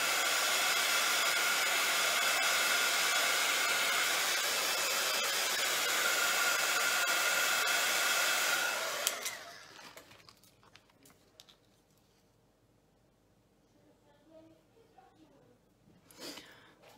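A hair dryer blows loud and close with a steady rushing whir for about nine seconds, then shuts off, leaving a quiet room with faint small handling sounds and a brief rustle near the end.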